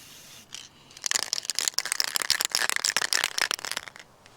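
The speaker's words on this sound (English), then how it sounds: "I'm using a spray can." Aerosol spray can painting an old Hornby model railway coach from about a foot away. After a quiet second, a loud, continuous hiss of spray begins, with crackly sputtering bursts through to the end.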